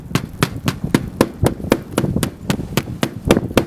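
Knuckles knock steadily on a roof while hunting for a roof joist during a Starlink roof-mount installation, about a dozen sharp, evenly spaced raps close by, with no talk over them.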